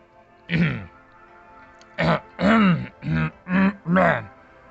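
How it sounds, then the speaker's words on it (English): A person clearing their throat, a short first rasp followed after a pause by a rapid series of five harsh, guttural bursts, close and loud. "I had to clear my throat"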